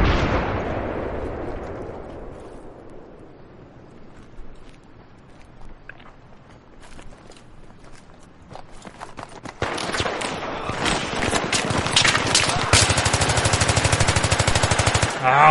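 Battlefield 3 combat erupts with a loud explosion that rumbles and fades, scattered distant shots, then sustained rapid machine-gun fire that dominates the last several seconds.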